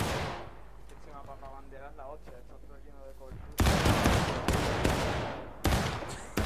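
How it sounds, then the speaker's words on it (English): Several loud, close rifle volleys crash out in the War of Rights game, aimed at artillery: after a stretch of talk, a big ragged volley hits, then more bursts of musketry follow with brief gaps between them. "Florida, rise up and fire at will at the artillery"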